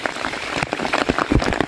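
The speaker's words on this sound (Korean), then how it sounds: "아, 비가 오니까 막 너무 좋습니다." Steady rain patters on surfaces along a mountain trail during a wet-weather hike, a dense close hiss with scattered louder drops throughout, and no voices.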